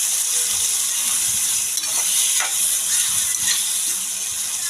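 Tomato, green chili and onion frying in hot oil for egg curry, a steady close sizzle with bursts of hiss and occasional stirring scrapes, no voices.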